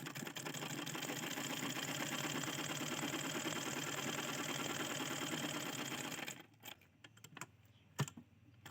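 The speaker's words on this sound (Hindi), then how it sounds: "हमने एक बार सिलाई लगा दी है और एक बार सिलाई लगा देती हूँ।" Sewing machine stitching a blouse, a continuous quick needle clatter and motor hum for about six seconds, then stopping, followed by a few faint handling taps and clicks.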